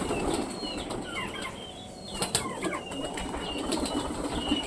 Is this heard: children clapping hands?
no